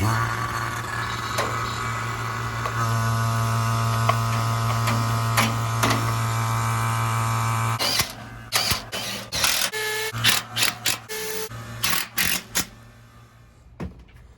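An HVAC vacuum pump hums loudly and steadily for several seconds, then shuts off, leaving clicks, knocks and rattling handling noises.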